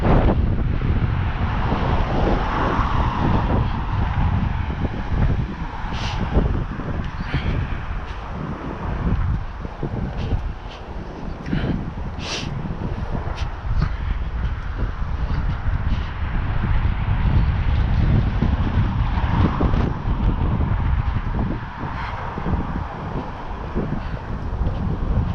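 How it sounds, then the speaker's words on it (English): Strong gusting wind buffets a microphone outdoors by the coast at Musselburgh, East Lothian, a loud, steady roar with rumbling low gusts and brief higher whooshes that continue throughout without any talk. "Ooh, the wind."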